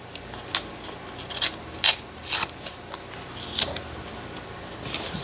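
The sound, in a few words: ripping a book page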